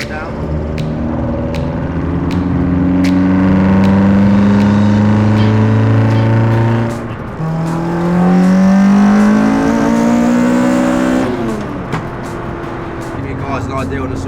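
A Citroen Saxo's small engine rises through the revs as the car accelerates, droning steadily from inside the cabin, dipping at a gear change and climbing again, with people talking over it.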